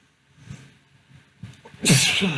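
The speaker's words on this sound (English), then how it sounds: "Hang on, I have to sneeze." A single loud, close sneeze bursts out after a few soft breaths and sniffs.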